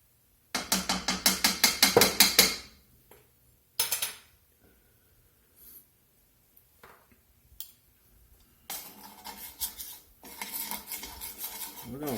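Vegetable oil and flour roux being stirred in a pan for shrimp etouffee: close, rapid rhythmic metallic scraping and clinking in bursts, separated by quiet gaps, no talking.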